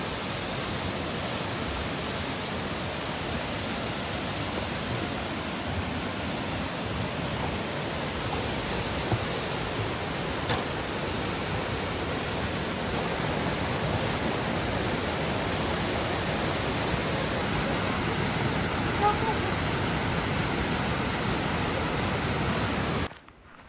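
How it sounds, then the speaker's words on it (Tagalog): A waterfall on the Little Beehive hike near Lake Louise in Banff gives a steady, broadband roar that holds without pause for over twenty seconds, heard alone with no voices. "Waterfalls."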